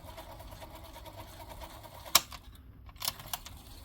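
A cheap £2 cassette deck mechanism runs in play mode with a steady, close mechanical whirr and a few sharp clicks and clunks over it.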